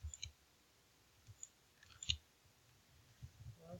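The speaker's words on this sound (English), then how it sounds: "And we're going to click right there." A few sparse, faint computer mouse clicks tick at irregular intervals against a quiet background, with no talk.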